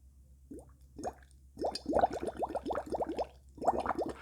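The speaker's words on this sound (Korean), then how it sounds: "기포가 바깥으로 나오면서 빵 터지는 소리가 바로" Bubbles blown through a straw gurgle and pop in water, a few isolated blips then a quick run of bubbly plops, close and clear.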